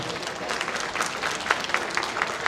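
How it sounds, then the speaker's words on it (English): Audience applause at a psychic fair, a steady patter of many hands clapping close by and continuing throughout at moderate volume. "give him a clap, everybody"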